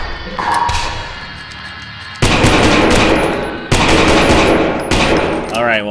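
Gunfire in the horror game Lost in Vivo cracks out in three loud, abrupt blasts, each ringing off into a fading rumble, after a quieter stretch.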